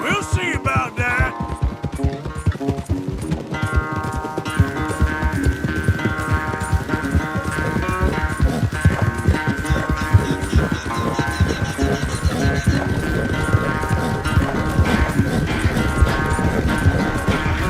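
A horse gallops in a race in Red Dead Redemption 2, its hooves pounding in a fast, steady rhythm that stays loud throughout, with faint game music tones layered over the hoofbeats.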